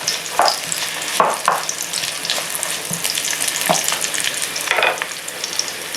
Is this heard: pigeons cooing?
no